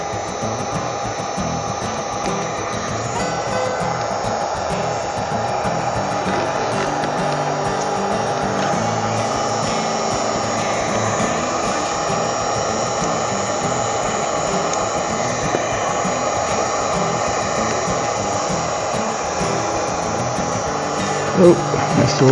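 A heat gun warms vinyl wrap on a BMW motorcycle, a steady close blowing roar with a motor whine that runs continuously throughout, with a brief knock near the end.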